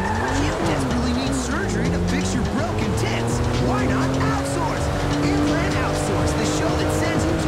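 A car driven in GTA 5, its engine droning loudly and steadily with shifting revs and some tire squeal, heard under game dialogue and other background sound.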